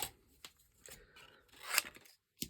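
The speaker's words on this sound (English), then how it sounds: "Now, I'm going to cut that away" Paper being cut away with scissors while crafting a carnation, a few quiet separate snips and crisp rustles with short pauses between them.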